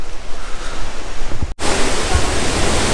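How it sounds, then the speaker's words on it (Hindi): A monsoon-swollen waterfall in Coorg roars as a dense, loud, continuous rush of water, heard close with a momentary cut midway before the full roar resumes. "I can actually listen to the roar of the waterfall."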